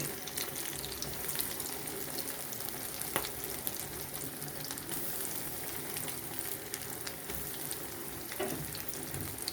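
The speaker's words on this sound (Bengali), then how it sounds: "এগুলো আস্তে আস্তে ভেজে নিতে হবে, মিডিয়াম আঁচে রেখে" Potato-stuffed bread rolls frying slowly in oil over medium heat, a steady close sizzle throughout with no talking.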